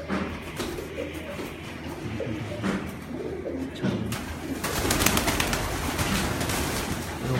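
Pigeons coo steadily on a rooftop in Gujranwala, soft repeated throaty calls layered over a busy wash of background noise that grows denser toward the end, with no talking.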